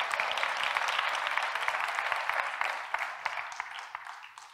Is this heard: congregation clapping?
yes